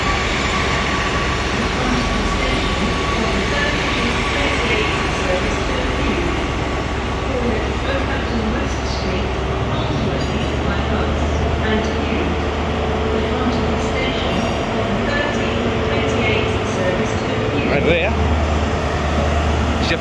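A steady rumble of train and station machinery at Exeter St Davids station as a passenger train departs, with a constant hum, continuous and fairly loud, with a faint voice and a few scattered clanks.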